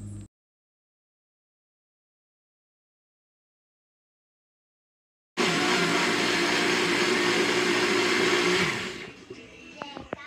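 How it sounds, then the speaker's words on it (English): A NutriBullet blender purees cooked mango for homemade baby food: after a long silence, the motor kicks in with a loud, steady whirring roar for about three seconds, then winds down into a few light clatters. "place it in your NutriBullet container to get ready to blend"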